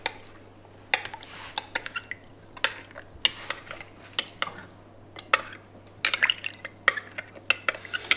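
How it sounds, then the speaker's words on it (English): A spoon stirring a yeast and sugar mixture for homemade wine, with repeated close clinks and scrapes against the container in an irregular rhythm over a quiet background hum. "Give that a bit of a stir up."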